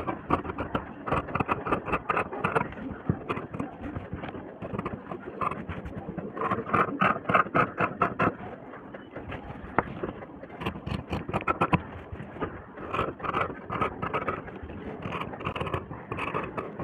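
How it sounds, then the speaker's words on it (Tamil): Scissors cut through blouse fabric with a continuous run of close, crisp snipping and scraping strokes, fairly even in rhythm and moderately loud, with no talking. "நான் இப்போ கட் பண்ணுறேன், அதை பாருங்கள்."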